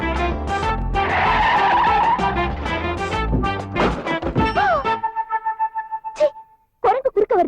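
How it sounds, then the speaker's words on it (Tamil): A car brakes hard with a loud tire skid over engine noise, followed by a stuttering, pulsing scrape and a few sharp squeals that break off into short gaps of quiet. "குரங்கு குறுக்க வருது தானே பிரேக் போட்டேன்"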